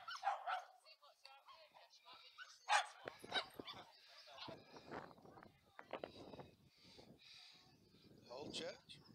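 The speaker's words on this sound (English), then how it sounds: "Loads of nice dogs." Several dogs bark, yip and whimper outdoors during a camping trip in Northumberland. The sharp barks come in irregular bursts, some near and some farther off, and people talk nearby in between.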